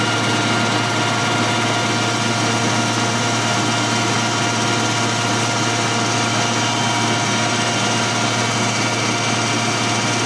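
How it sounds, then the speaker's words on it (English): A metal lathe turns and cuts aluminium stock, throwing stringy chips, with a steady loud machine drone and cutting noise running without pause throughout, no talking. "Horrible stringy chips off aluminium, you've got to be really careful that you don't get wrapped around the chuck."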